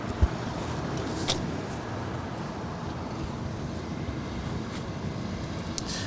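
An airliner lands on runway 25 Right at Los Angeles International Airport, heard as a steady, broad, distant roar that holds at the same loudness throughout, with no voices.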